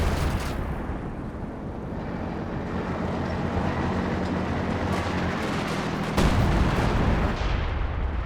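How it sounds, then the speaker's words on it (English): Howitzer artillery in the Company of Heroes 2 battle game roars as a dense, rumbling barrage with a heavier boom near the end, loud and continuous, with no voices. "howitzer fire onto this battle group now"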